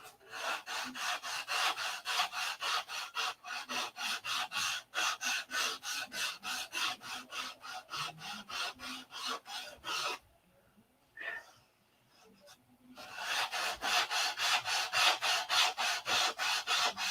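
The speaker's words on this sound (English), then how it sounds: "More sanding." Hand sanding on a P-47 model: a steady, rhythmic rasping stroke repeated close up for about ten seconds, a brief pause with a faint scrape, then the back-and-forth sanding resumes at the same brisk pace.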